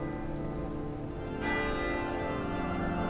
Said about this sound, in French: les cloches de l'église Saint-Jean-Baptiste résonnent